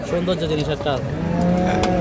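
Loud, drawn-out cattle moos close by, several animals calling over a busy livestock market hubbub.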